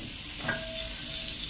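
Amla (Indian gooseberries) fry in a pan for a pickle, giving a steady sizzle with a few light stirring scrapes and clinks, with no talking.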